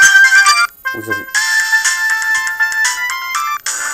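A loud electronic ringtone from a Mobiho-Essentiel Le Classic Plus mobile phone, measured up to 80 decibels, plays a bright melodic tune, pausing briefly before the jingle resumes.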